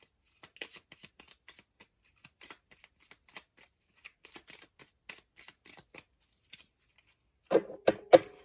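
A tarot deck is shuffled by hand, a run of soft, quick riffling card flicks followed by a few louder slaps as the deck is cut and squared.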